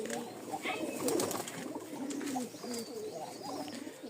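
Pigeons in a loft, including a black male and female pair, cooing in repeated low, throaty burbling calls close by, overlapping one another with light rustling behind.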